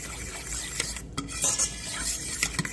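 A spoon stirs a buttermilk mixture with Italian seasoning, garlic powder, paprika, cayenne pepper and salt in a bowl, giving soft scraping and clinking for a few seconds with no voices.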